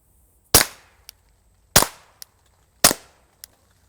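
Three muffled pistol shots through a suppressor into a berm, spaced about a second apart, each a sharp crack with a short tail and a small metallic click after it.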